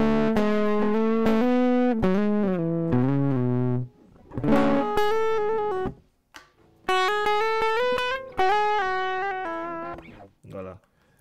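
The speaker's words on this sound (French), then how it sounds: "Cet effet, c'est une distorsion que je n'utilise pas." Distorted synthesized tones from computer music software's distortion effect play in sustained harmonic phrases with short gaps, loud and close, with no talking.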